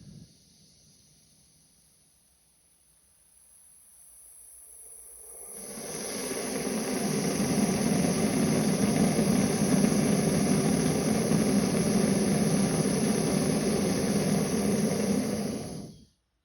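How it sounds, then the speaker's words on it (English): A TOAKS titanium backpacking gas stove lights with a low hiss that swells into a steady, loud roaring rush at full flame, holding evenly for about ten seconds before cutting off sharply. "So when you fire the stove up, it looks pretty impressive."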